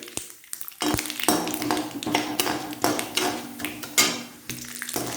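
White urad dal goes into hot oil with already-popped mustard seeds for a South Indian tempering, giving a loud burst of sizzling and crackling amid sharp clinks of a metal spoon against the pan.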